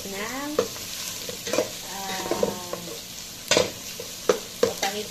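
Garlic sizzling in a pan for Filipino papaitan, a soft continuous fry with several sharp stirring knocks and scrapes of a utensil against the pan, close by, with faint animal-like calls in the background.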